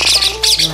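Harsh, raspy squawks from a close, loud bird, a few calls in quick succession.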